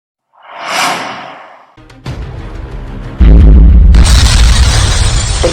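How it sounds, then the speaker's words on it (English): An explosion inside a spaceship in an animated story: a rising whoosh swells and fades, then a crackling rumble builds into a loud, sustained roaring blast that fills the end, with no talk. "Again, another explosion takes place inside the ship Yakthamba"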